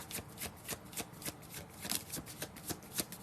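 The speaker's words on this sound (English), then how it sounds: "I'm going to shuffle some more" Tarot cards riffled and shuffled in a quick, steady run of soft papery flutters with evenly spaced snaps, close and fairly quiet, with no talking over them.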